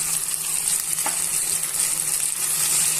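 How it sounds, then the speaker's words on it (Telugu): Yogurt being stirred into a plantain masala curry in a pan: a steady close sizzle of frying with soft scraping stir strokes and one brief clink, no voices. "పెరుగుని యాడ్ చేసుకొని ఇవన్నీ బాగా ఈవెన్గా మిక్స్ చేసుకొని ఉడికించుకోవాలి"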